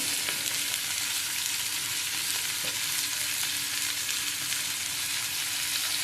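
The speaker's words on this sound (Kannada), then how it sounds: "ತವದಲ್ಲಿ ಎಣ್ಣೆ ಹಾಕಿದ್ದೀನಿ ಎರಡು ಸ್ಪೂನು ಎಣ್ಣೆ ಹಾಕಿ ಈರುಳ್ಳಿ ಟೊಮೆಟೊ ಫ್ರೈ ಮಾಡ್ತೀನಿ" Onion and tomato fry in two spoons of oil on a tawa for a mushroom gravy, giving a steady, soft, even sizzle with faint scrapes throughout.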